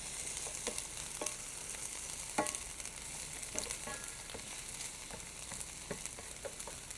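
Cabbage and other vegetables fry in a pan with a soft, constant hiss, while a utensil scrapes and clicks through several quick stirring strokes; no one speaks.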